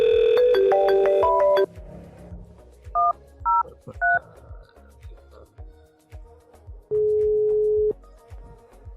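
Quick smartphone dialing tones on a VoIP call to a FreePBX server, then a few short beeps and a longer steady tone like a call connecting, heard alone with faint background noise.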